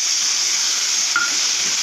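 Ground mustard and green chilli paste sizzles in a hot pan of oil, a steady close hiss with soft bubbling and no talk.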